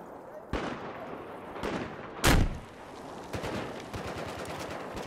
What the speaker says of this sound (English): There's one back there shooting his gun.